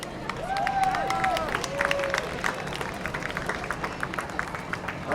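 A crowd lining the route of the Luther Burbank Rose Parade cheers and claps for a marching Girl Scout troop, with whistles over a steady, outdoor hum of applause.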